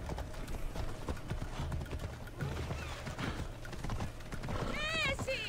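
Horse hooves clip-clop steadily at a gallop in the video game Assassin's Creed Odyssey, close and fairly loud, with a horse whinnying near the end and a voice talking over the hoofbeats.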